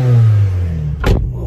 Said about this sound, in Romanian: Ia cum face motorul.